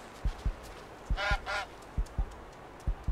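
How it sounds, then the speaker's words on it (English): A goose in the Force of Nature 2 video game gives two loud, close honks in quick succession, over a rhythmic backdrop of regular low thumping footsteps that continue throughout. "Wait, how did that goose get into my..."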